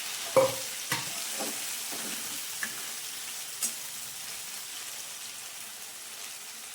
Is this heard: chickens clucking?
no